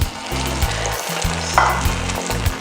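Steady sizzling of waina batter as it is poured into the holes of a hot pan, a continuous close crackle, with faint clicks and a brief splash partway through and no talking.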